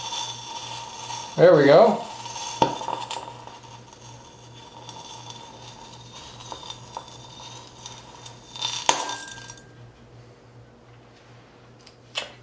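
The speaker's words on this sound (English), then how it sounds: "the sound that you heard was actually the explosion of the sodium metal and not the breaking of the glass" Sodium metal explodes in hydrochloric acid inside a glass beaker with one short, loud, sharp crack and rattle near the start. Faint mechanical ticks follow, and someone speaks briefly.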